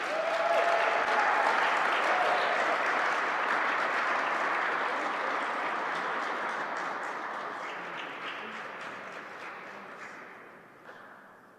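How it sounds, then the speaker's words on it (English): A large audience claps loudly and steadily at a Black History Month celebration in Manitoba, the applause gradually tapering and fading toward the end. "keep the applause going"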